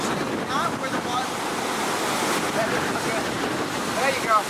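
Ocean surf and gusting wind during Tropical Storm Lee form a steady, loud wash of waves with rumbling wind buffeting the microphone throughout.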